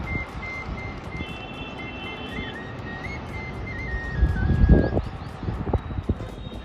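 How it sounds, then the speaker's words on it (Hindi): A bansuri flute played outdoors below a house gives a thin, wavering melody at middling distance, with street noise and brief thumps around it and no talk. "ये बहुत ही अच्छी बांसुरी बजा रहे हैं काफ़ी देर से हमारे घर के नीचे"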